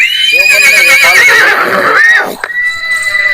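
A horse at a horse market in Yeola neighs loudly and close by, a long quavering whinny that falls in pitch, followed by a brief snort.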